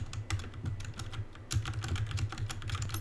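Rapid keyboard typing with occasional mouse clicks, close and steady, a dense run of small clacks with no voices.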